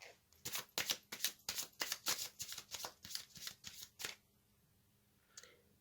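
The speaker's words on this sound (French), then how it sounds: "Alors maintenant, je vais tirer une carte de l'oracle aromatique." Oracle cards being shuffled in a dense run of crisp riffling snaps for about four seconds, close and fairly quiet, then a brief soft card placement near the end.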